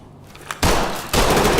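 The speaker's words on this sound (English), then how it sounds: "There's some gunfire to his left." Gunfire in a tactical operation: two loud, sustained bursts of rapid shots, each lasting about half a second, close and harsh, separated by a brief gap.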